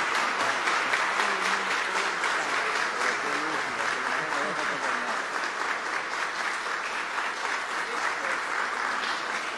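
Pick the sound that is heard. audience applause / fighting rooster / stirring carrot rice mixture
audience applause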